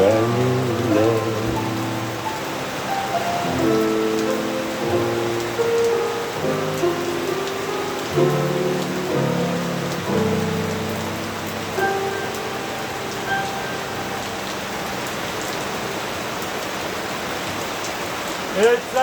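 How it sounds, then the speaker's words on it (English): A heavy downpour from Hurricane Ernesto on a street, a dense, steady hiss of rain hitting surfaces. A voice murmurs faintly underneath throughout the long stretch. "It's a downpour."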